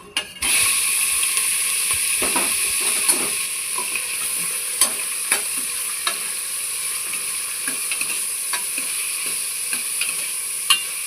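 Prawns fry in a pressure cooker for biryani, giving a steady loud sizzle throughout. Scattered metallic clinks and scrapes of stirring sound over it, with no talking.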